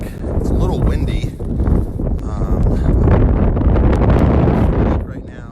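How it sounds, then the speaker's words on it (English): Strong wind buffets the microphone high on a mountain overlooking a lake, a loud, rough, continuous roar with a voice talking under it. "It's a little windy."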